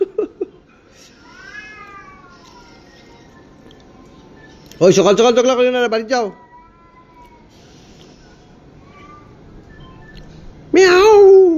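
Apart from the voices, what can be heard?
two cats fighting and caterwauling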